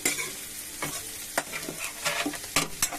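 Bitter gourd and potato pieces fry in a pan with a constant crackling sizzle. Several quick stirring scrapes and taps are heard up close.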